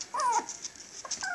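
Havanese dog whimpering indoors, two short high whines with a pause between, close and moderately loud.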